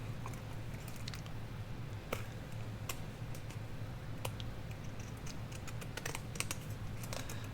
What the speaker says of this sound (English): Let's just use our pinking shears on this one and see what happens.